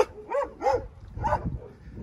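Small dog on Sicily giving three quick sharp barks in a row, close and moderately loud, mixed with whimpering yips.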